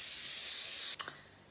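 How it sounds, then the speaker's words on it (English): Cooking spray hisses into a glass loaf pan in one steady burst lasting about a second, ending with a short clatter of the can. "I'm going to give it a quick spray."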